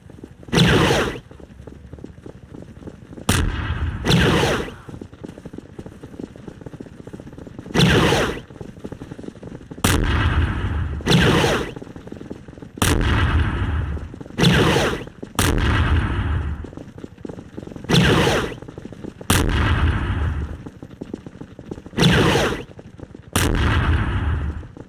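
Artillery bombardment in a military video game, with heavy booming impacts landing at irregular intervals of a few seconds, each a loud thud with a rumbling tail, and continuous battle noise in between.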